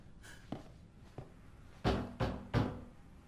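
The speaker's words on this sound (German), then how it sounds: "Da klopft jemand an der Tür." Knocking on a door in Resident Evil 7, two faint raps followed by three louder, heavier thuds in quick succession, close and alone in a quiet room.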